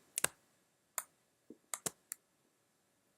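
A computer mouse clicking while dragging on a desk, about seven sharp, close, isolated clicks spaced irregularly over a quiet background.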